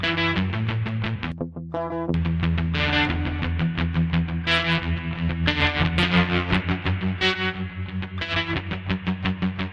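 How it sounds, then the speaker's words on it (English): Heavily distorted electric guitar through a free amp simulator plays loud, sustained chords and riffs with a thick, saturated tone, no voices present. "This is the fullest distortion that it can get, right?"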